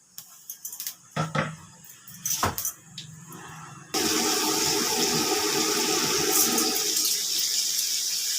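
Water is poured into a hot pan with spices, setting off a sudden, loud, sustained sizzle that follows a few clattering kitchen knocks.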